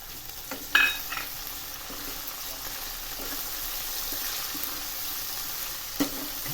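Garlic, chillies and green onion fry in a pan for a Mehsana-style onion sabji, giving a steady soft sizzle with a couple of sharp clinks of a stirring spoon, no voices.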